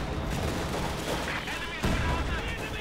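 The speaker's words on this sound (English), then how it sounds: "Further mortar fire here." Dense battle noise from the strategy game Company of Heroes 2 carries explosions and gunfire, mortar impacts among them, as a commentator talks over the continuous rumble.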